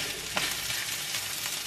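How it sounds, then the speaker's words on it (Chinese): Eggs and rice fry in a shallow pan, a steady close hiss and sizzle with a few soft stirring scrapes, continuous and moderately quiet with no voices. "鸡蛋和米饭已经下锅了"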